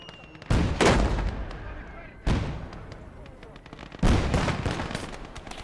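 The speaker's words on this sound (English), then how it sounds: "Think we're just mortaring this one tank?" Mortar rounds landing on a tank in a war video game come as three heavy, booming blasts spaced a couple of seconds apart, each with a long rumbling tail, loud and close.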